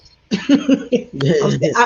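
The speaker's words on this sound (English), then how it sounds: "I was trying to get rid of that cough." A few short, close coughs and throat-clearing bursts, then a longer rough clearing of the throat, loud and near.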